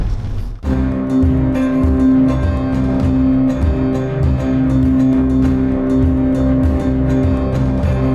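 Car cruising southbound on the E6 highway east of the Oslo Fjord, a loud, steady engine hum with a sustained tonal drone and road noise after a brief dip at the start.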